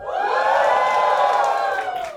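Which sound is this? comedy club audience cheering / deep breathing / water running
comedy club audience cheering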